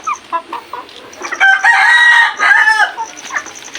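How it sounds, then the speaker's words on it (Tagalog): Chickens cluck repeatedly inside a pigeon loft, loud and close, with a rooster-like drawn-out call swelling in the middle before the clucking resumes; no talking. "Ito yung mga manok natin sa loob, dami."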